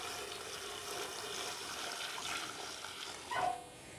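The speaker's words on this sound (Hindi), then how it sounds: "अब मैं इनमें डाल रही हूँ गर्म पानी" Hot water poured from a kettle over beef trotters (paye) in a home kitchen makes a steady, close rushing splash that swells briefly louder near the end.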